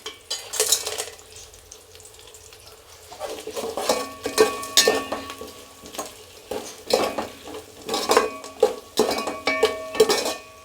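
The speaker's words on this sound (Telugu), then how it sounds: "1 టేబుల్ స్పూన్ నెయ్యి, కట్ చేసుకున్న ఆనియన్స్, బిర్యానీ మసాలాలన్నీ వేసేసుకుందాం." Onions and biryani spices frying in a tablespoon of ghee in a pot for vegetable biryani, with a soft sizzle under repeated clinks and scrapes of a metal spoon stirring against the pot, close by and without talk.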